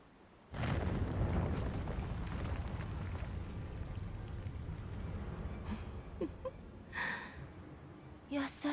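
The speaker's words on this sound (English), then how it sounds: "Explosions!" A sudden loud blast opens a long rumbling roar in the Final Fantasy XIV video game, followed by a few shorter bursts and crackles as it dies away.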